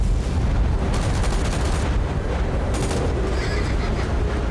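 Horse neighing in an action movie scene, shrill whinnies rising twice over a loud dense background of rumbling and action noise, close and prominent.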